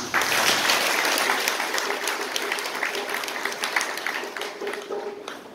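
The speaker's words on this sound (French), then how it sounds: "Applaudissons pour vous." Sustained applause from a crowd, dense clapping that fills the whole stretch and tapers slightly near the end.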